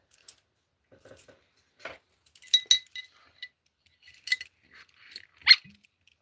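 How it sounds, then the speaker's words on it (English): Bourbon is poured into a shot glass with sparse, bright clinks and taps of glass, several sharp isolated hits spread across a quiet background, close and fairly loud. "pouring the last of your bourbon into a shot glass"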